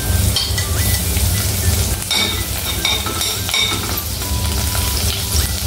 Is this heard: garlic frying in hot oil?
yes